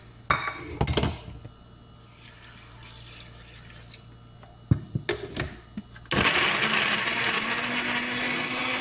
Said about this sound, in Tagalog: Dahan-dahan lang pag-blender.